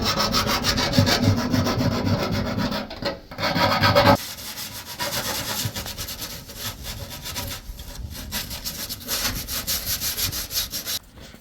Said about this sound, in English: done a magnificent job sanding and filing this hole up